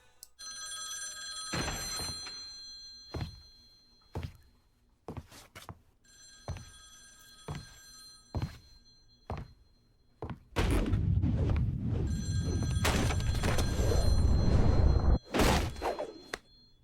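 Telephone ringing in Devil May Cry 3: a series of sharp, evenly spaced electronic rings with thuds between them, followed by a louder, sustained burst of rushing noise and a final knock.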